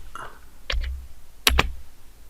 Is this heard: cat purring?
no